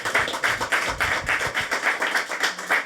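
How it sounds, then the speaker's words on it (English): Applause breaks out for the men at an awards reception, a steady patter of many hands clapping at close range, continuous and even throughout with no voices on top. "So a big round of applause to all the men in the room who made it happen."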